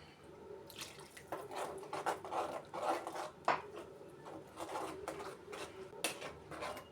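A ladle stirs ground coconut-spice paste as it sautés in a pan for Kottayam fish curry, with soft scraping, wet sizzling and light clinks against the metal, fairly quiet and close, with no talking.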